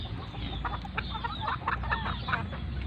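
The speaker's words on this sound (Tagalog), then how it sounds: "yan yung aking 4 months old na mga stag" Four-month-old young roosters (stags) on a farm cluck softly and steadily, several birds close together over a low, constant background hum.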